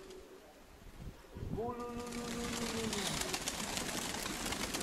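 Pigeons coo near a dovecote in a short repeated call over outdoor wind noise, with a voice speaking briefly.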